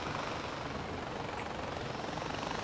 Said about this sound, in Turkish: Manuel helikopter.